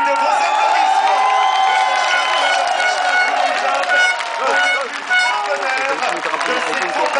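Crowd cheering and applauding at the Tour de France 2010 podium, a dense continuous roar of voices and clapping with occasional horn toots, heard steadily throughout.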